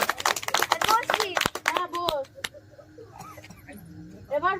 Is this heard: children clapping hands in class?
yes